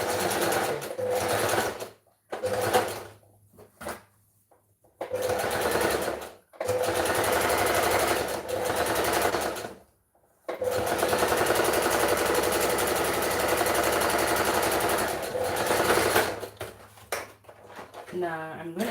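A sewing machine stitching fabric runs in several bursts of steady rapid mechanical whirring separated by short pauses, close and loud, with a brief spoken word in one pause.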